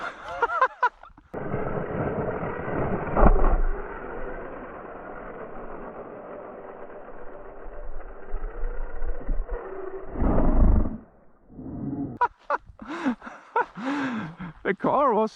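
A 2S-powered RC car bashing and jumping: its electric motor whines loudly and steadily as it takes off and flies, then sputters into a few short bursts and clatters on landing.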